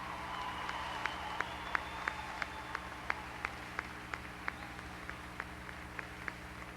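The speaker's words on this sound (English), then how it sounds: "Let's give these people a round of applause." Graduates at a 1995 college commencement receive applause: faint, distant claps in a sparse, even rhythm over a low room hum.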